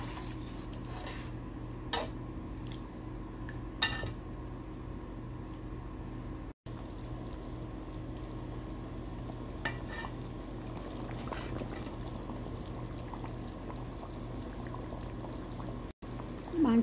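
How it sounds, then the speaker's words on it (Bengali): Hot water poured into a pot of beef being cooked down, a steady continuous pouring rush lasting throughout, with a few brief clinks and knocks over it and no talking. "এখন অ্যাড করবো গরম পানি।"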